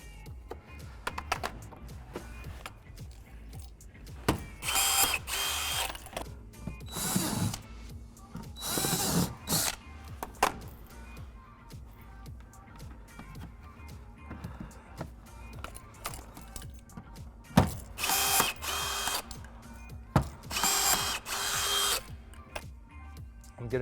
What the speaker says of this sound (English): I have a rivet gun which is 14 inches